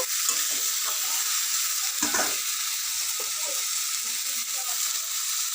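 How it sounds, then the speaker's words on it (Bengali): Pumpkin, drumstick and potato curry stir-fries in a pan after a tempering of dry red chilli, bay leaf and five-spice, with a steady close sizzle, a few scraping stirs and one louder spatula clatter midway. "এটা একটু ভালো করে কষে নেব"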